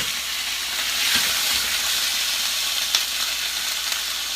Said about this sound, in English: we're going to throw these steaks on